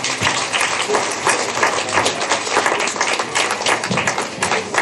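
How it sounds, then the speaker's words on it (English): A crowd around the show ring at a 4-H/FFA swine show claps for the exhibitors, a steady wash of many hands applauding at moderate distance with no break. "Let's go ahead and give them all a big round of applause"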